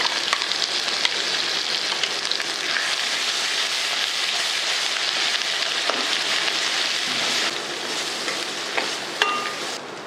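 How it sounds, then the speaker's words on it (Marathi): Black masala paste with curry leaves sautés in a pan for a sprouted moth bean amti, giving a steady, close, dense sizzle that runs unbroken and eases slightly near the end. "वाटण चांगलं परतलं"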